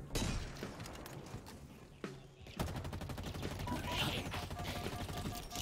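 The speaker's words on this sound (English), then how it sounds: "the heavy rifle shreds" Heavy rifle gunfire in the video game Halo Infinite, dense rapid bursts of shots with a short pause in the middle, loud and close over game sounds, with someone talking briefly.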